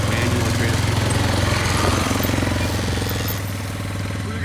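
An old tractor with a manual transmission runs nearby, a loud steady chugging engine rumble with a fast regular pulse throughout.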